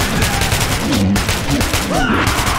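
Bursts of gunfire in Metro 2033 Redux crackle as rapid, dense volleys, loud and close, mixed with shouting and a chaotic battle din.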